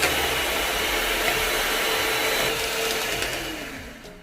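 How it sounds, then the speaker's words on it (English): Electric whisk beating egg yolks and sugar for Japanese cotton cheesecake, a loud, steady motor whine held throughout and tapering slightly at the close. "I will start to whisk the egg yolk and the sugar together first"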